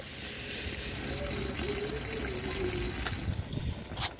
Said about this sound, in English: after about 5 minutes of letting water drain out of it